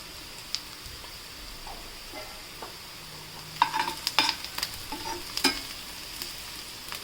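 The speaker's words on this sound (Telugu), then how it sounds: "రైస్ మంచిగా వేగాలండి బ్రౌన్ కలర్ అయిపోవాలి ఇందులోనే కొంచెం పసుపు వేసుకున్నాం" Rice frying with turmeric in a pan, giving a soft steady sizzle with scattered stirring scrapes and clinks near the middle, close but fairly quiet and with no voices.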